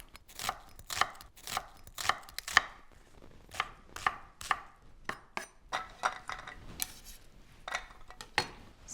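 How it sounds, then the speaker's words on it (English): A knife dices green mango steadily on a cutting board, quick crisp taps in an even rhythm, close and clear with no talking. "And then nice small dice."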